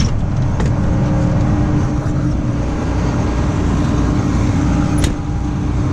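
A combine harvester engine idles steadily nearby, a dense continuous low rumble with a faint click just before the end.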